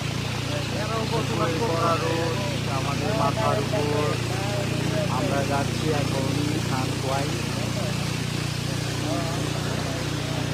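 A boat engine drones in a steady low hum throughout a ride along the Toin canal in Bandarban, while a voice talks over it the whole time.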